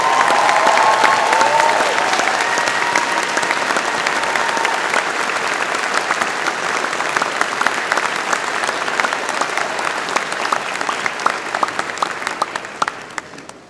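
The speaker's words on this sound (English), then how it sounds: "Graduates, a round of applause for family and friends." Graduates at a spring convocation ceremony give a loud, steady round of applause to family and friends, the clapping dense and continuous, gradually thinning and fading out at the end.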